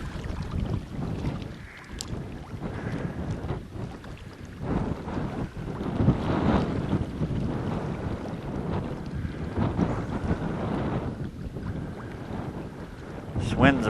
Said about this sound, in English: This wind's pretty gusty,